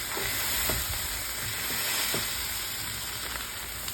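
A smash burger patty topped with onion sizzles on a griddle in a continuous loud hiss, with light scrapes and taps of a spatula pressing down on it. No voices.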